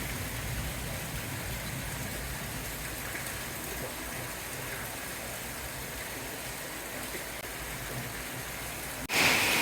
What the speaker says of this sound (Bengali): মাশাআল্লাহ, আল্লাহর বরকতময় বৃষ্টি হচ্ছে।